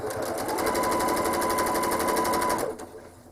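A home sewing machine quilting a curve on an X-stitch quilt runs in a fast, steady stitching rhythm, close and loud, then stops near the end.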